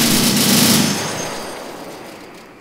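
Gunfire in the WWII strategy game Men of War: Assault Squad 2, Battle of the Bulge, with a realism mod: a loud, dense burst of shooting that cuts off just before one second and leaves a long, fading echo.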